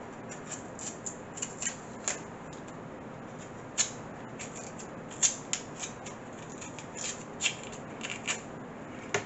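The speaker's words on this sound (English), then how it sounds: "We get the skin off like this." A knife or fingers strip the skin from pieces of sweet cassava, giving soft close-up scraping and peeling with irregular small snaps and crackles at a steady working pace.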